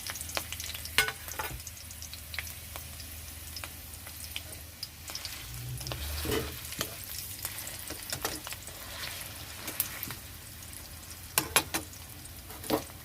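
Ground paste hisses and sizzles in a pan of hot oil alongside fried green chillies, a soft, steady frying crackle with occasional sharp pops and stirring scrapes, fairly quiet throughout.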